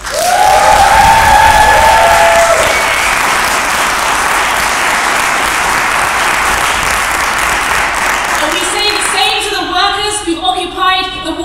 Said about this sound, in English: So let's give a cheer and applause for these amazing workers.